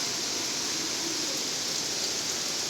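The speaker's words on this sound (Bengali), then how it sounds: "দেখো কি জোরে জোরে ফোটা" Heavy rain falls outdoors in a dense, unbroken hiss that stays loud and even throughout, with no voices over it.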